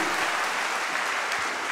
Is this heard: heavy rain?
no